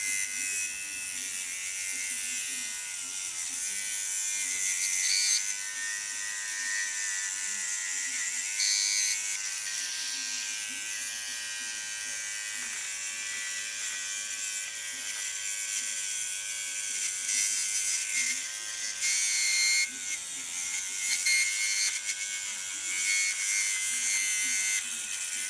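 A Dremel rotary tool shaping a balsa wood model wheel gives a continuous, fairly quiet high-pitched buzzing whir that wavers slightly as the tool moves, with no voices.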